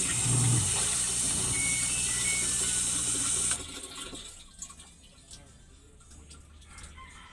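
A Samsung automatic washing machine with a fault that keeps water flowing in during the wash gives a loud, steady rush of filling water that cuts off after a few seconds, followed by quiet handling noises and faint background sounds.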